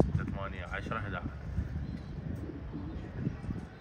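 Pigeons at a racing loft coo softly in low repeated calls, faint under someone talking nearby outdoors, with light wind.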